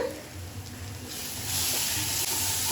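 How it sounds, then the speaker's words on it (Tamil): Masala sautéing in a pan for egg gravy gives a steady sizzle and hiss that grows fuller and louder partway through, with soft stirring scrapes and no talk. "நல்லா மசாலா வாசனை போகிற வரைக்கும் நல்லா வதக்கிக்கோங்க."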